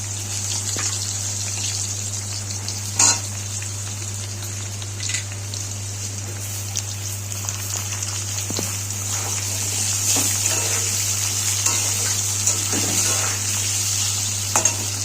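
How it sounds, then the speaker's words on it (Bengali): Potatoes frying in leftover fish oil in a kadai with black cumin and bay leaf, a steady hissing sizzle with occasional stirring scrapes and clinks, close and continuous over a low constant hum. "আলুগুলো আমি মাছের তেলেই রান্না করব। আলু দিয়ে দেবো।"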